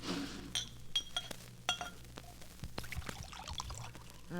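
A drink poured from a bottle into a glass in an old radio drama scene, with light clinks of glass and a short trickle of liquid, close and fairly quiet, with no talk over it.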